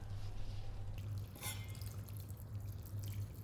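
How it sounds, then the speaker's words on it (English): Broth pours into a pot for a plant-based maqluba, a brief liquid splash and trickle standing out over a low, steady kitchen hum. "I'm gonna add broth into the pot"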